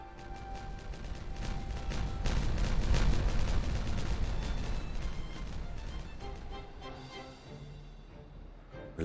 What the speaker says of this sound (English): So let us test explosions of the bigger variety.